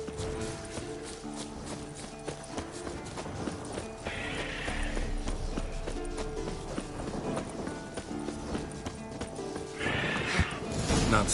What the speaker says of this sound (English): Scorpion's a warhorse. A purebred Kedwenny.